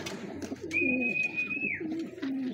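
Pigeons coo close by in a loft set up for catching racing pigeons, with repeated low, throaty rolling coos and a steady high whistle-like tone running through the middle.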